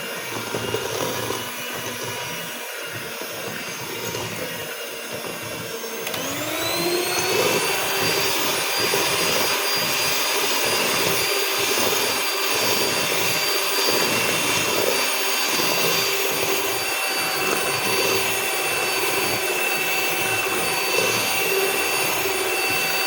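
Electric mixer whirring steadily while beating batter for steamed sponge cake, a constant high whine that steps up in speed partway through and then holds loud and even, with no talk.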